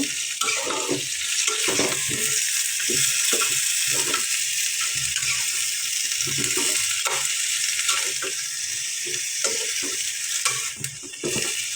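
Vegetables are turned into frying masala in a pan, with a steady close sizzle and hiss broken by recurring stirring scrapes throughout.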